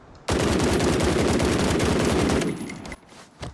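A Mark 17 rifle firing 7.62 rounds in the game BRM5 lets off a long, rapid string of loud, close shots in steady automatic rhythm for about two seconds, then falls quiet with a few faint trailing sounds.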